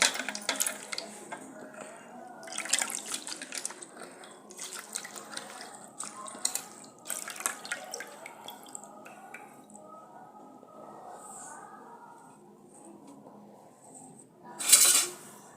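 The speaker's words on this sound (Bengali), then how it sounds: "এইবারে একটা বাটিতে জলও নিয়ে নিয়েছি আর এই নিম পাতাগুলো খুব ভালো করে ধুয়ে নেব" Neem leaves are washed by hand in a bowl of water, giving close splashes, drips and light clinks against the bowl in bursts with quieter stretches, ending in a sharper clatter.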